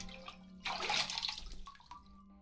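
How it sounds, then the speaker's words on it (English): A bucket dipped and filled with water at a pond in the Ib game, a short splashing gurgle over a low steady hum, alone with no talk. "fill the bucket with water."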